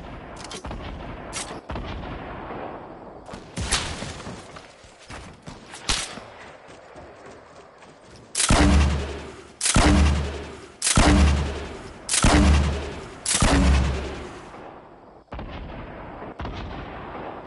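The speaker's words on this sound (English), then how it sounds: "let's launch grenades." Grenade launcher explosions in a video game: scattered gunfire first, then five loud, evenly spaced heavy blasts in quick succession, each with a booming low rumble, followed by quieter trailing shots.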